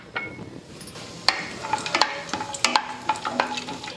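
Cashews, almonds and raisins fry in a pan for a moong dal halwa, giving a soft sizzle broken by a quick run of stirring clicks and spoon taps, close up and without talk.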